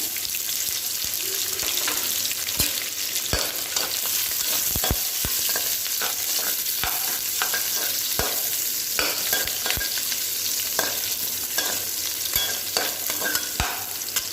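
Onions sautéing in hot oil in a pan, a continuous dense sizzle with frequent sharp stirring clicks and scrapes, close and steady throughout.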